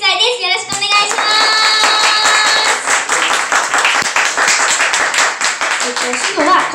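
Audience clapping along in a steady, fast rhythm at a children's live music show in a Fukuoka club, loud and dense throughout, with a voice and sung tones over the claps at the start.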